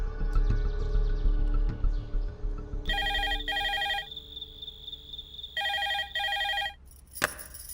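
A telephone rings in two bursts of paired electronic trills, each double ring clear and loud, over a quieter indoor background with a short thump near the end.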